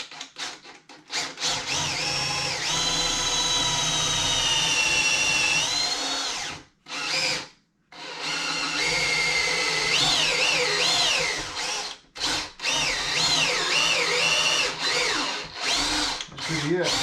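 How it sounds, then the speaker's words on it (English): A power drill bores into a wall to mount a floating shelf, with a loud, close, whining motor that runs in long bursts, pitch shifting under load, and brief pauses between runs. "Now if I drill down till the tape touches the top"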